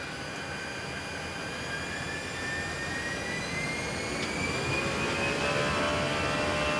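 Steady jet engine roar of a Brussels Airlines Airbus airliner in flight, heard from the cockpit as a continuous broadband rush with faint high whine, growing slightly louder toward the end.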